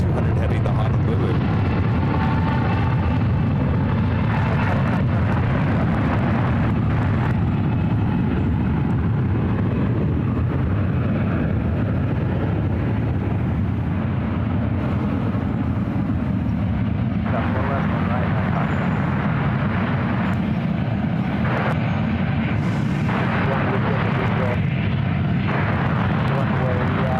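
A United Boeing 777-200 taking off at SFO for Honolulu gives a continuous low, heavy jet roar. It holds steady and loud throughout, with a rumbling body and shifting midrange whine.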